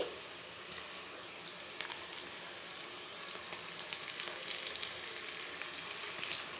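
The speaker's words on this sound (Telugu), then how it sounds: "ఇప్పుడు స్టవ్ పైన కడాయిల ఆయిల్ అయితే వేడైందండి ఇప్పుడు వీటిని ఇలా చక్కగా చిన్న చిన్న పకోడీలను అయితే వేసుకోవాలి" Small pakoras frying in hot oil in a kadai on a stove, a soft continuous bubbling sizzle with faint pops that grows a little livelier toward the end, quiet and free of speech.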